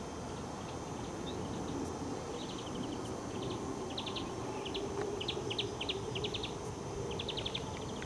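Small birds chirp in short, quick bursts along a pilgrimage path, their high tweets scattered and moderately distant over a steady outdoor hiss with faint insect buzz.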